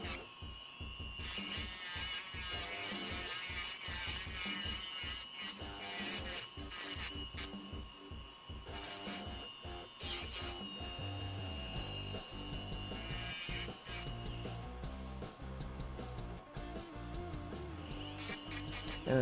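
Rotary grinding and smoothing of the small joints and a trimmed tail on an orthodontic dental retainer, a steady whirring, scraping burr noise close by with rapid rhythmic pulses and shifting pitch, running continuously without talk.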